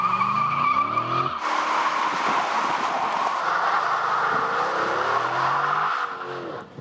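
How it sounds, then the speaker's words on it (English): A Dodge Charger SRT four-door muscle car revs its engine, then breaks into a sustained, loud tire squeal during a burnout, the screech holding steady for several seconds under the engine roar before easing off. "burnouts in this car are as easy as breathing"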